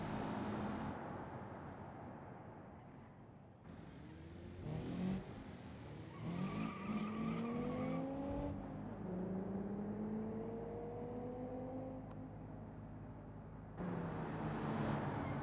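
Car in BeamNG.drive accelerating at full throttle with traction control off: engine whine rising through several gear pulls, with tire squeal and a steady drone as the revs climb and fade, close and fairly loud.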